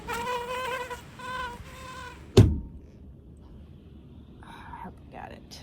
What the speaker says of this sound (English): Just inside the windshield, I see the biggest mosquito I've ever seen in my life.